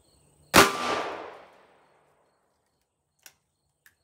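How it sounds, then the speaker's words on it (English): Ruger GP100 revolver firing a .38 Special 158 grain coated cast bullet into ballistics gel, one sharp loud report with a ringing tail lasting about a second, followed by two faint ticks. "All right, 158 grain cast with the high-tech coating, the Ruger GP100."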